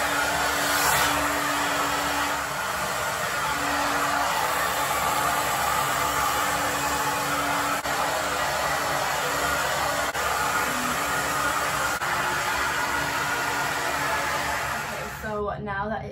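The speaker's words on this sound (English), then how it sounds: "I'm gonna scrunch it while blow drying it" A hair dryer blows steadily and loudly at close range while curly hair is scrunched by hand, its broadband whoosh continuous for the whole stretch before cutting off at the end.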